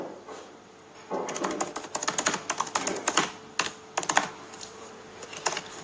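Someone types unevenly on a computer keyboard close up, with bursts of quick key clicks broken by brief pauses.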